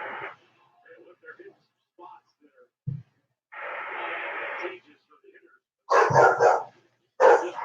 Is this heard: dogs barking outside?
yes